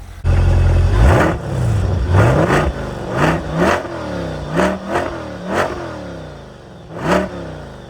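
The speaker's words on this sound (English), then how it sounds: "Definitely sounds like a V8." A C8 Corvette Stingray V8 engine revs repeatedly, about eight sharp throttle blips rising and falling, loud and close with a deep rumbling idle between them.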